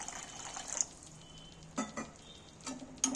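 Water poured into sizzling chicken masala in a pan while cooking chicken biryani, a quiet hiss and sizzle punctuated by a few sharp stirring clinks, with no talk.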